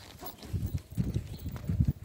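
A horse's hooves clip-clop in a dressage arena during a riding lesson, with soft, rhythmic thuds at a close, even trot.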